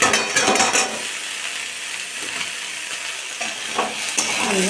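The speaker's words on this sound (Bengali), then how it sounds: "মূলগুলোকেও একটু নাড়াচাড়া করে দেবো" Radish pieces for an old-tamarind tok being stirred as they fry: a close sizzle with rough scraping and rattling of the utensil against the pan, louder at the start and end.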